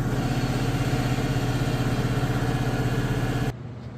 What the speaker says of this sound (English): my air compressor kicked on and I had to shut it off